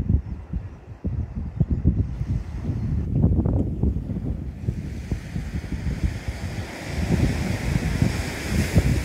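Heavy wind buffeting the microphone, low rumbling gusts that surge and fade, with a brighter rushing hiss building in the second half.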